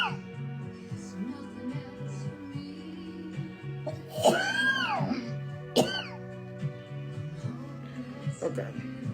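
A person coughs in two sharp, harsh bursts partway through, close to the mic, over a steady background of music and voices.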